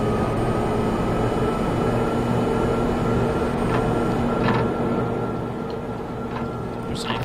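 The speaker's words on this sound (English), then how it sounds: "This is turning on the maintenance car so we can get through." A maintenance rail car powering up in the Max Payne video game, heard as a loud, steady mechanical rumble and hum in a station tunnel, with faint clanks rising near the end.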